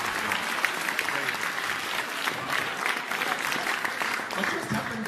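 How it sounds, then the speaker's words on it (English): Festival audience at the Grahamstown National Arts Festival applauding a stage performer, producing a steady, dense wash of clapping throughout with voices and crowd murmur mixed in. "Give yourselves a big clap,"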